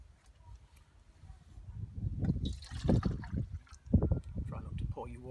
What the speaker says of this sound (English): Try not to pour your water over your fuel.